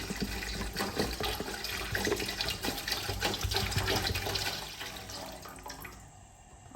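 Clean water poured into a pot while making syrup in a kitchen, a steady splashing, gurgling stream running close and fairly loud for several seconds before tapering off near the end.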